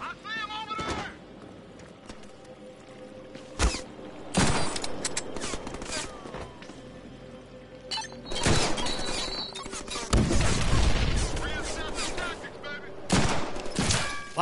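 Gunfire in the Deadpool video game: several loud bursts of shots and impacts break out against a quieter background, some brief and some sustained for about two seconds, with game noises in between.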